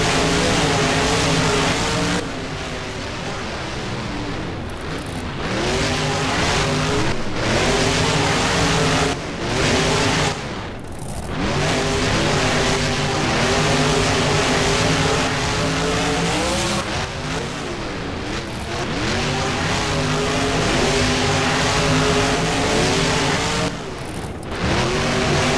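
Monster truck engines roar continuously in a BeamNG race on the Lightningscape track, loud revving with shifting pitch, tire squeal and brief dips as the trucks race side by side.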